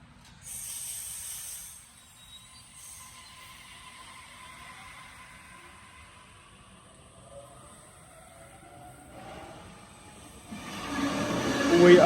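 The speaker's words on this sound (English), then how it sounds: "Train on platform 2 now due to depart." A passenger train departs a suburban platform at night in New South Wales, with a faint hissing and rolling hum that builds toward a louder rush near the end.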